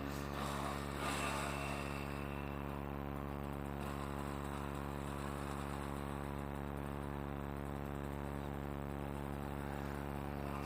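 Honda CRM 250 two-stroke motorcycle pulling power wheelies, its engine droning steadily and loudly throughout with a sustained buzzing tone and no pauses or talk.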